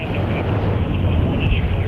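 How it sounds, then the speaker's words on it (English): A jet airliner taking off from Las Vegas's Harry Reid International Airport, heard as a steady, loud broadband roar with a deep rumbling low end, continuous and unbroken. "Planes taking off from Las Vegas's Harry Reid International Airport, one of the nation's busiest"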